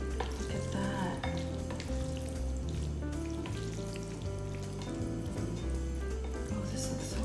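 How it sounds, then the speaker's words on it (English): Black bean sauce noodles with beef and shrimp fry in a pan for jajangmyeon, giving a steady, close sizzle with stirring and scraping throughout, alone without talk. "the sound of the noodles and the sauce just like getting to know each other"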